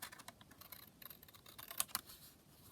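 Scissors cutting across paper for a handmade junk journal, a quiet run of small crisp snips and rustles with two sharper clicks near the end, close and faint with no talking.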